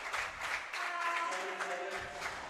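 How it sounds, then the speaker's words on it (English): Crowd applause and cheering at a women's singles racquetball semifinal at the 2017 Pan Am Championships, following a shot by Martinez; a steady, dense wash of clapping throughout, with some faint voices mixed in. "There's the crowd loving that shot from Martinez."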